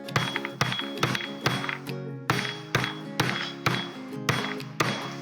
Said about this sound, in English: you just smash it so the root's exposed, like that, right?